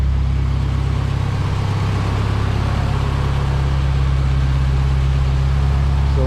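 A freshly built K24 engine idles steadily in an EG hatchback, a loud continuous low rumble that holds an even tone with no talk over it.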